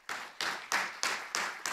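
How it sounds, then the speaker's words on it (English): Six evenly spaced, sharp claps in quick succession, close and crisp, like one person clapping rather than a full crowd. "Let's give everyone a round of applause."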